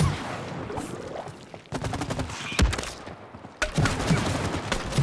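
Rapid gunfire bursts from shooting at a swarm of wasps in the co-op video game It Takes Two, dense overlapping shots in three loud stretches mixed with game action noise.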